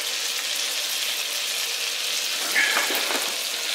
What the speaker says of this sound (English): our butter burning